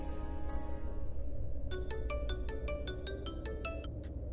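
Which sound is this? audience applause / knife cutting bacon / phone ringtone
phone ringtone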